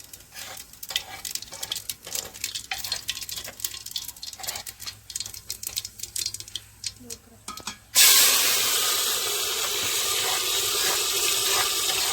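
Chopped onions going into hot oil in a pot on a stove: scraping and stirring clatter first, then a sudden loud, continuous sizzle that stays steady and close to the end.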